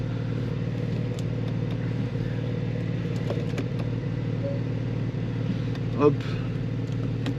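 Porsche 718 GT4 Clubsport with a 4.0-litre 420 hp engine and manual gearbox rumbles in a steady, close, low hum with a brief spoken word over it.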